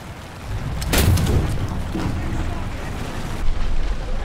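Tank cannon fire in War Thunder: a heavy boom lands early, followed by a rumbling tail, then a second deep blast near the end, with players talking excitedly between the shots.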